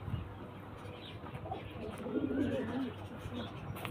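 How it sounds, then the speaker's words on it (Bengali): Collected pigeons coo in low, throaty rolls that swell in the middle, close and moderately loud, with faint human sounds in the background. "এই দেখুন হাট কালেকশন পায়রা দেখুন"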